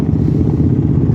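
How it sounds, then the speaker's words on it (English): Several motorbikes pass on a hilly Australian country road near Maidenwell and the Bunya Mountains, a steady loud engine drone filling the whole moment without any voices. "Okay, lots of motorbikes."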